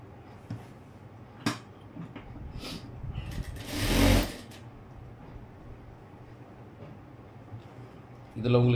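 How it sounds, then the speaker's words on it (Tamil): Sewing machine stitching the front piece of a blouse, a short burst of fast running whir with a few brief clicks and handling sounds around it, and someone talking quietly. "இப்போ இன்னொரு ஃப்ரண்ட் பீஸுக்கும் தைச்சிடுறேன்."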